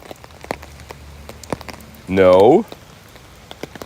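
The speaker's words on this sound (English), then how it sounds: "It's some big old raindrops coming down." Big raindrops pattering down on a person sheltering under a tree during a downpour, scattered sharp drips near and far over a steady rain hiss, with a brief spoken word in the middle.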